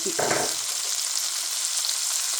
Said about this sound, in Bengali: একটু হালকা ফ্রাই করে নেই ফ্রাইটা হাই হিটে করতে হবে